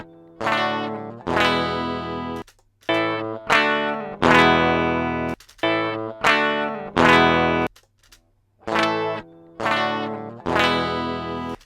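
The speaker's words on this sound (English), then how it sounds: "Let's listen to the strum again." Electric guitar strummed through distortion and chorus effects, about eight sustained chords separated by short gaps, each onset soft and woolly rather than sharply attacked, heard alone.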